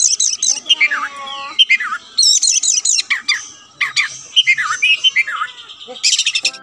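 A kacer bird, an oriental magpie-robin, sings loudly and close by in a varied run of bright whistles, trills and chirps, broken by short pauses, with no talking.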